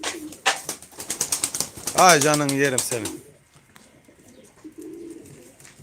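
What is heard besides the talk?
pigeons cooing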